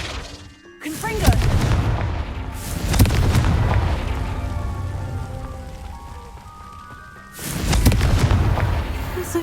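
Confringo spell explosions in Hogwarts Legacy, sharp booming blasts at the start, around three seconds and again near seven seconds, each followed by crackling debris and rumble, loud and close with game voices briefly heard.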